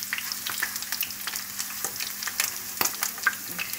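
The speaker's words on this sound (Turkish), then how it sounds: "az bir kızartma yapacağız." Potatoes sizzle and crackle steadily in a hot frying pan, with occasional louder pops and light stirring scrapes, close by and fairly quiet.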